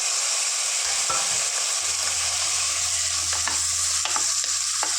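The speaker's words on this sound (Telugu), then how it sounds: "అల్లం వెల్లుల్లి పేస్ట్ పచ్చివాసన పోయేంత వరకు కంపల్సరీగా ఫ్రై చేసుకోవాలి" Ginger garlic paste fries in a pan with a constant loud sizzle and occasional stirring scrapes near the end, with no talking.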